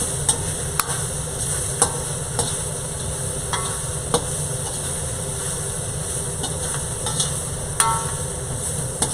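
Beef and scallions stir-fry in a hot pan for a Chinese dish, giving a continuous sizzle with regular sharp clinks of a utensil scraping and tossing, and no one speaks.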